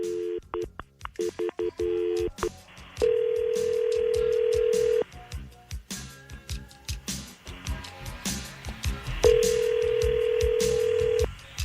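A telephone call is placed: quick bursts of touch-tone dialing beeps, then long steady ringback tones repeating with pauses, close and clean with faint background noise between rings.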